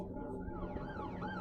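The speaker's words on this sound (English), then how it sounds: "Sirens sounded in the distance" Emergency sirens wail in the distance, their rising and falling tones drifting steadily over a low background rumble, with no voices.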